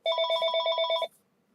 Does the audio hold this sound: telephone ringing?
yes